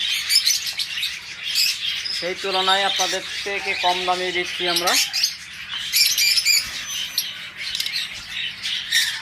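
A pair of creamino budgies chirp and squawk non-stop at a pet bird seller's, with bright scratchy calls and a few drawn-out harmonic squawks, while someone talks over them throughout.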